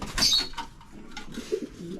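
Racing pigeons resting after returning from a hard race give soft, low cooing calls, a few brief coos near the end, with a sharper rustling burst near the start.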